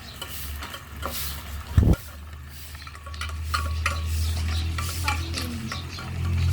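Seafood sizzles and fries in a pan as a utensil stirs and scrapes against it, with one sharp knock of metal early and a steady frying hiss underneath.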